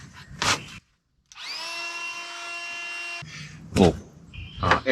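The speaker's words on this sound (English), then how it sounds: "Little air mattress pump." Small air mattress pump used to blow sawdust off freshly chainsaw-milled cedar boards, a steady close whining hum lasting a couple of seconds between brief bursts of voice.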